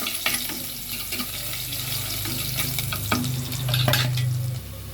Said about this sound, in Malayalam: അതിൽ എണ്ണ ഒഴിച്ച് കടുവറുത്ത് മുളക് ഇട്ട ശേഷം അല്പം ഇഞ്ചിയും കുറച്ച് വെളുത്തുള്ളി അരിഞ്ഞതും ചെറുതായി അരിഞ്ഞ് ചേർത്ത് വഴറ്റി എടുക്കുക